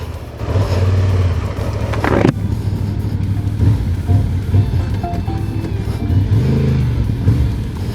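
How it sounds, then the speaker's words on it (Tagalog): A Honda adventure motorcycle, either an African Twin or an XL750 Transalp, runs on the road with a loud close engine drone that rises and falls as it is ridden, with a sharp burst near the start and no talking. "Ang ganda ng tunog ng engine siya, hindi aggressive."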